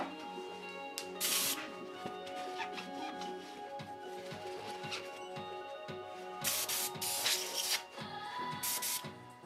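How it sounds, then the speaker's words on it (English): An airbrush sprays in hissing bursts while it is cleaned out after use with Spaztec paint. Some bursts are louder than others, with faint rubbing and handling noises between them. "Got to clean out your airbrush a lot when you use the Spaztec stuff."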